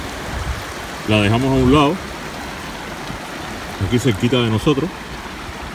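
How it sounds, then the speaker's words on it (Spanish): River water flows steadily around people standing in it during an outdoor riverside offering to Oshun with sweet oranges, a constant broadband rush continuing under and between spoken Spanish. "Como se ve ahora, estamos dentro del río."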